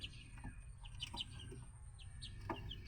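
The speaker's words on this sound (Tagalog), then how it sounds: "tignan natin ang mga manok, ang ating mga chicken" Chickens outdoors give soft, scattered clucks and short chirps over a low background rumble, faint and spread through the few seconds, with no talking.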